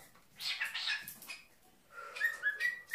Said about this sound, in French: ce que vous entendez derrière, les petits piou piou piou piou piou, c'est les bébés qui sont nés il y a 3 jours et qui demandent à manger